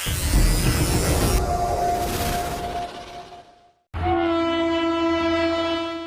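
Fast Indian passenger train rushing past with a loud, sustained horn blast, a brief dip to near silence, then a second long, steady horn over the roar of wheels and rail noise.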